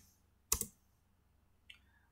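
Someone enters a password on a computer keyboard in a quiet room: one crisp double keystroke, then a single softer key click a moment later.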